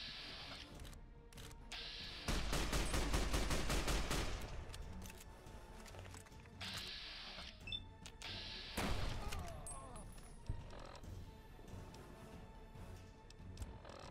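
Gunfire in the video game Fallout New Vegas during a battle at Hoover Dam. Several bursts and single shots crack out, with one dense rapid burst, among thuds and game background noise.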